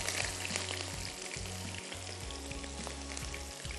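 Onions dropped into very hot oil for qeema kaleji hiss in a loud, steady sizzle that fills the whole stretch, with a low hum underneath.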